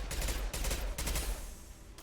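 Rapid submachine gun fire from the Mass Effect video game, two dense bursts of automatic shots about a second long each, loud and close with a short gap between them and no talking.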